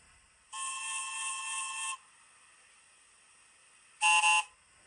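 A model train horn with class 483 sounds, from an ESU LokSound V5 decoder, sounds in two bursts, first a longer steady blast, then after a pause a brief double toot, loud and close.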